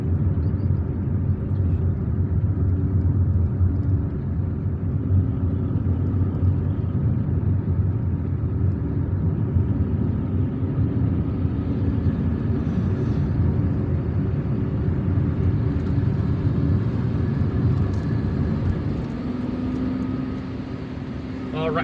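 A car drives onto a motorway in Algiers, its engine and tyre roar holding a steady, loud drone throughout with no talk.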